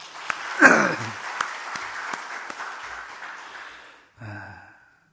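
A church congregation applauds its worship singers, a dense burst of clapping that swells quickly, holds steady, then fades out before a brief second flurry near the end.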